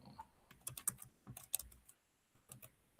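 Close, quiet typing on a computer keyboard while entering an account, with irregular bursts of key clicks separated by short pauses.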